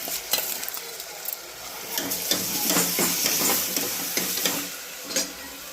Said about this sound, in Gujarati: હવે ડાયરેક્ટ આપણી પલાળેલી ખીચડી નાખી દેવાની